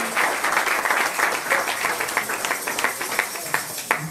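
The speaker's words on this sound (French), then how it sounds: "sous vos acclamations, s'il vous plaît" Crowd applause at a Parti Orange political gathering in Congo greets a named party representative, steady dense clapping with sharp individual claps standing out, loud and continuous throughout.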